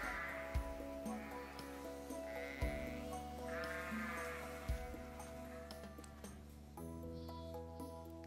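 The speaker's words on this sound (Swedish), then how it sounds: "Verkade nästan på fåren som att de nyss var utsläppta i hagen." Several sheep bleat in a pasture beside fields in a Swedish nature reserve, repeated drawn-out calls from different animals, some near and some farther off, with a few soft thumps between them.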